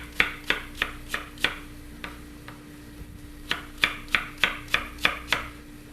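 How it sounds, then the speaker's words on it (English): A knife slices a peeled, cored Granny Smith apple on a cutting board in a rapid run of crisp, even chops, then a short pause with a few lighter taps, then another steady burst of chops, close up and clear. "We're going to then slice that apple."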